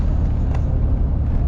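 A 2007.5 Cummins pickup truck rolls over a badly broken, rough road, giving a steady, loud low rumble of engine and road noise with jolts from big bumps; no one talks.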